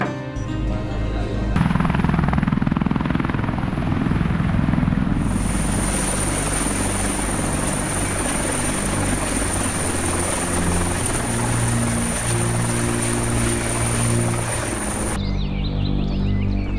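A military helicopter flies close in a mountain setting, its rotor thumping loud and continuous, with a sharp drop in the surrounding sound near the end.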